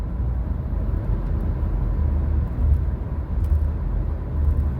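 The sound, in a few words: car interior rumble while driving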